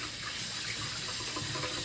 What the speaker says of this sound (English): I'm going to wash out this bowl and wash my hands.